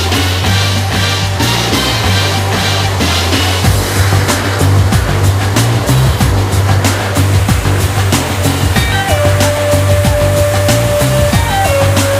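Loud, constant roar of a swollen mountain river rushing on the Canigó, its crossing footbridge washed away by high water; dense unbroken torrent noise fills the whole stretch with no voices.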